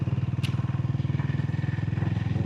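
A new motorcycle's engine thumps along in a fast, even pulsing beat, close and steady while riding on a road from Jorethang to Namchi, with a brief clatter partway through.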